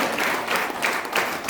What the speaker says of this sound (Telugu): వీళ్ళందరి కోసం ఒకసారి క్లాప్స్ ఇద్దామా?